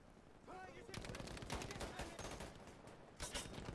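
Rapid bursts of gunfire during an online Battlefield V match, loud and dense automatic shots rattling across the whole stretch with a short pause before a final volley.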